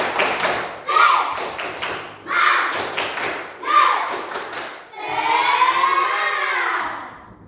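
A group of children in a classroom do an Indonesian spirit clap, claps in a quick rhythmic pattern, several bursts of patterned claps, then a sustained shout together, close and loud.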